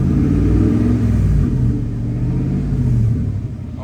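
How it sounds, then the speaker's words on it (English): A 1965 Ford Daytona Factory Five race car idles and revs through straight headers to side pipes, a loud, deep, throbbing rumble up close that dips slightly and swells again, with no voices. "You'd think it'd be louder with just straight headers to side pipes, but it sounds pretty sedate for a race car."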